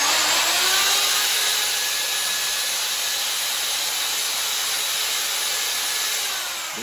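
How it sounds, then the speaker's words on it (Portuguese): An electric hand beater churns glitter into acrylic putty for a floor coating, giving a loud, continuous hissing whir that holds steady for the whole stretch and eases off slightly at the end. "Tô utilizando aqui um batedor da nossa parceira WBR Wagner, por sinal é muito bom"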